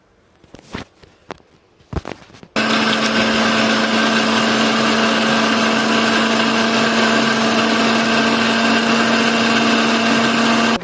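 A few sharp knocks and clatters, then a mixer grinder grinding broccoli for soup whirs to life with a loud, steady high-pitched motor drone that runs without pause.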